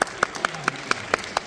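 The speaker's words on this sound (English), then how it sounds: "Please give her another round of applause." A handful of sharp, evenly spaced hand claps at a speaker event, about seven in a steady rhythm, close and moderately loud, like a small group politely applauding.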